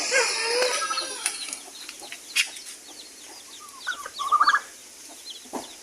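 Hens cluck and chatter around newly hatched chicks on a farm, with soft peeps, wing flutters and a brief cluster of louder calls near the end, close by and without talk.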